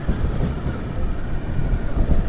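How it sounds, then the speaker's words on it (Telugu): A crowded passenger train pulling away from Chandrapur railway station, a steady low rumble and rolling rattle with some wind buffeting, continuous and close, with no voices. "సో మన ట్రైన్ వచ్చేసి చంద్రపూర్ రైల్వే స్టేషన్ నుంచి అయితే బయలుదేరిపోయింది"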